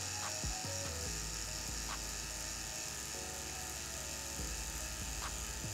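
Tattoo machine with a magnum needle packing color into skin, a steady close electric buzz with a low motor hum that holds evenly throughout, no talking.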